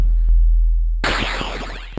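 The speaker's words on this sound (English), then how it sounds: "I want to make this white noise weirdly pitchy" About a second of near-silence, then broadband synthesized white noise from a Nord Micro Modular bursts in abruptly, threaded with swirling, whistling pitched tones that sweep up and down through the hiss.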